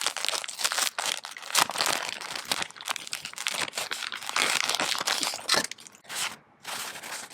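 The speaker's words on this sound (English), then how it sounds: "As usual, we have some different sizes of craft paper here." Sheets of craft paper of different sizes being handled, giving steady close crinkling and rustling with occasional sharper crackles, alone without talk.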